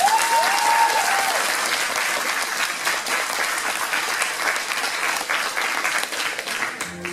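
A crowd at a cosplay parade at the Dijon Saiten convention applauds a cosplayer, steady, full clapping that holds for about seven seconds and stays fairly even throughout, with a brief whistle-like tone early on.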